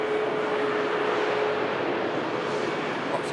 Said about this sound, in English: Nice touchdown from the Ryanair, avoiding that one perfectly.